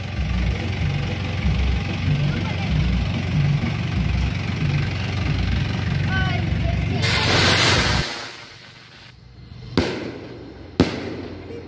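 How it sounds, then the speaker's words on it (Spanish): Steady engine rumble runs under faint voices at a patron saint festival in Candelaria, then a loud burst of firework rocket bangs and crackle, followed by two sharp distant pops in the quiet. "Ahí están, ¿ves? Los que revientan los cohetes"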